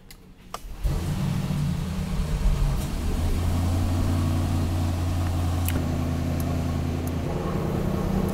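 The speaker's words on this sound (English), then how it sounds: "You can fire it up. Just press the button with the brake" An 800 hp Mercedes-AMG Brabus engine fires up with a short burst, then settles into a steady, deep, loud idle rumble that holds close and constant to the end.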